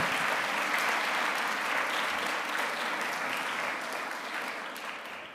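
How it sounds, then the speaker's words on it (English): An audience at a school chapel service claps steadily for Mr. Ormsby and Mrs. O, a dense, sustained round of applause that holds strong and then tapers slightly toward the end. "Let's give them another round of applause for all that work"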